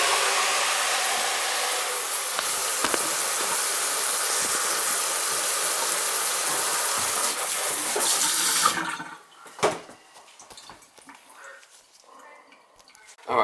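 Water runs steadily from a leaking kitchen faucet under the sink, a loud continuous rush that stops abruptly partway through, followed by quieter clunks and handling sounds.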